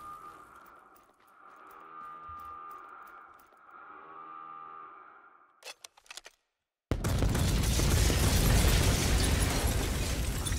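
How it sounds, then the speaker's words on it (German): A sudden loud explosion in the volcano survival video game Volcanoids erupts after a stretch of quieter mechanical game sounds, breaking into a sustained, dense roaring rumble that continues to the end. "Explodiert."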